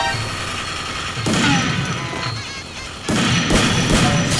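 Gunfire in the mobile shooter Free Fire: loud, dense bursts of shots and crashing impacts in repeated waves, close and harsh, with no talking over them.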